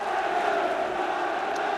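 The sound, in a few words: restless football crowd at QPR v Manchester United match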